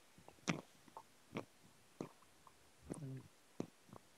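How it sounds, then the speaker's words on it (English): Soft, close chewing and biting sounds from a person eating, a series of brief crunchy and wet bursts spaced irregularly, faint and intimate with no talking. "I hope this chewing isn't loud."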